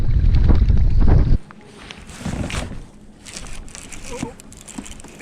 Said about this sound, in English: Wind's starting to pick up too,